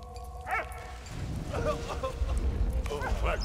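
Dog barking in the World War I video game Valiant Hearts, a few short barks near the start followed by layered game sounds with faint speech underneath.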